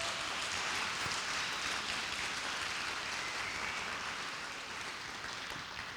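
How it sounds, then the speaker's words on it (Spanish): A church congregation claps for the Lord during a worship service, a thick, continuous wash of many hands that sounds almost like heavy rain and fades slightly toward the end. "Dale un fuerte aplauso al Señor, vamos."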